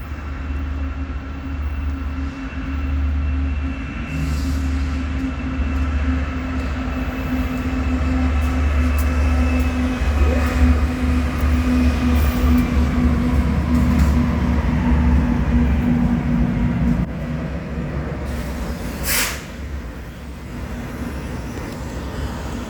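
BNSF freight train in warbonnet paint pulling a stack train past Union Station in Kansas City, a loud, steady rumble of locomotive and rolling cars passing close by for the whole stretch, with no talk.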